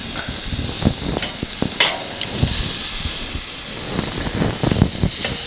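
Hamburgers cook on a big, very hot Weber grill, giving a steady close sizzle and hiss broken by frequent small pops and crackles of fat.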